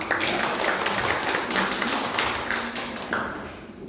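A small audience at a community workshop claps in welcome, sharp individual handclaps overlapping near the listener and thinning out toward the end.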